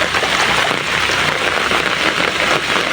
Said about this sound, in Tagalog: At malakas po ang ulan.